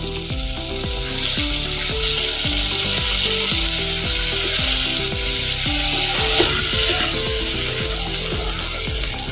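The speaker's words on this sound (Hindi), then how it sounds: "और थोड़ा सा इसमें तेल डालेंगे। अच्छे से मेल्ट होने देंगे बटर को अपने।" Butter and oil melting and sizzling in a pan before onions go in for Mexican rice, a loud continuous close frying hiss with faint stirring scrapes, steady throughout.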